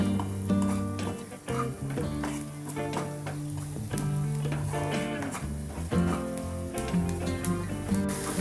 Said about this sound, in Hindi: चलाते हुए पका लेंगे